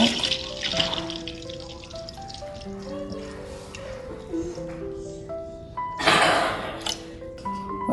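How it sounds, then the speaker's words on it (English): Half a gallon of whole milk is poured into a pot for homemade cream cheese, giving a running, splashing liquid sound under soft background music, with a louder gush near the end. "Let's add half a gallon of whole milk."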